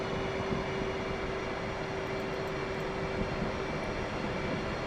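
An F/A-18C jet in the DCS World flight simulator throttles up to taxi, producing a steady dense engine roar with a fixed whine tone, constant and loud without breaks.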